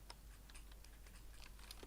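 Faint, quick keystrokes tap on a computer keyboard in an irregular rhythm over a low background hum, with no voices.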